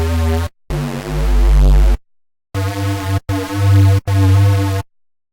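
Serum synth playing a retro patch with two slightly detuned oscillators, giving sustained buzzy tones with a gentle beating. Separate notes of varying length are separated by short silences and play alone with no voice.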